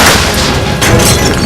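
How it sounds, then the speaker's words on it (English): Explosion in the video game Heavy Rain, a loud dense roaring boom with crackling debris filling the whole moment, sustained and rumbling without any voices. "It'll resist the blast of the explosion."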